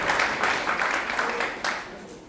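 A church congregation at a Sunday worship service claps together in a brief burst of applause, a dense patter of hands that swells and then fades.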